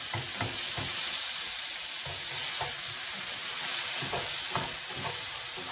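Steady, close sizzling of onions sautéing in a frying pan, with occasional soft clicks and scrapes of a utensil stirring.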